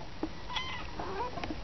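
A mother cat meows twice in quick succession, close and clear, in a short domestic moment.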